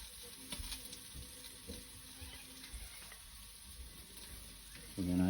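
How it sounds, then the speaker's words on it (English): A soft, constant sizzle of a beef, prawn, vegetable and noodle stir fry frying in a wok on a Weber barbecue, with faint stirring clicks and a louder clatter right at the end. "You can hear it sizzling away there,"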